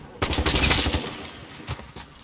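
Rapid gunfire from a gun in the video game Call of Duty Modern Warfare, a loud dense burst of shots for about a second followed by a few more scattered shots, with no talk.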